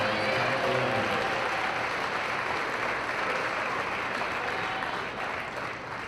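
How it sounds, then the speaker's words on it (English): Sustained crowd applause fills a gymnasium at a Taylor University women's basketball home game against Bethel, a dense, steady wash of clapping honoring the senior class that fades slightly toward the end. "let's give another round of applause for this year's Taylor University Women's Basketball Senior Class"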